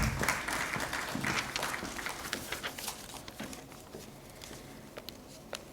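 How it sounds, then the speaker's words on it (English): An audience at a conference session on climate change and Indian health applauds, a faint, dense patter of many hands that gradually thins out as it goes on. "Please welcome her with a huge round of applause."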